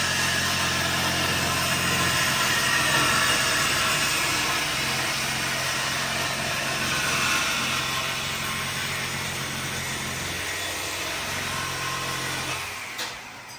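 Dodge Challenger Scat Pack with its mid muffler and resonator deleted, its V8 exhaust idling loud and close with a deep, steady rumble that eases slightly near the end.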